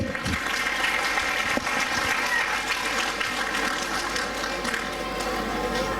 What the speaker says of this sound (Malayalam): അതിനൊരു നല്ല കയ്യടി ആവാം, ഇല്ലേ?